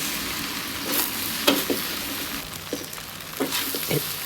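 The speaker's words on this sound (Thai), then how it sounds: "ใส่ก้านคะน้าลงไปผัด ผัดให้สุก" Chinese kale stems stir-fried in a hot pan for shrimp fried rice, a steady sizzle broken by several scraping stirs of the spatula, close and moderately loud with no talking.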